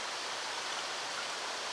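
Antifreeze gurgling and bubbling into an engine's cooling system as it nears full, a steady soft watery wash with no distinct pulses, alone and close.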